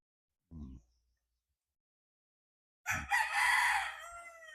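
A Kelso rooster crows once, close and clear, after a brief low grunting sound and a stretch of silence, with no talking.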